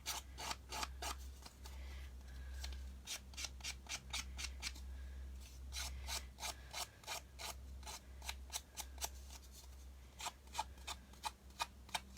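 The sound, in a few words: scissors roughing up the edges of paper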